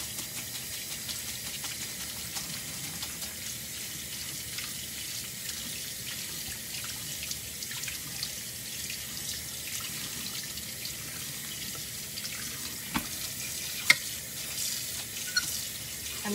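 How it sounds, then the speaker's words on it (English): Cold tap water runs steadily into a sink to rinse cooked pho noodles, with a soft continuous splash and occasional small drips and clinks, close and alone. "take some cold water, put it on here,"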